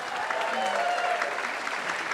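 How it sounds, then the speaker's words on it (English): An audience at a 25th anniversary celebration for a talk show gives a round of applause, a steady, even patter of clapping at moderate distance with faint voices mixed in. "can we get a round of applause for Frenchie"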